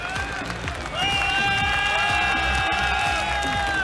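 Crowd at an MMA bout cheers and applauds for fighter Gadzhimurad after the fight, a dense, steady roar of voices and clapping that swells after the first second, with a whistle-like tone riding above.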